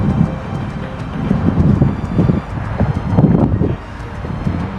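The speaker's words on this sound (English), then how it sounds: "Definitely windy up here." Strong wind gusts on a mountain trail near San Jacinto Peak buffet the microphone in loud, low, rumbling surges that rise and fall without pause.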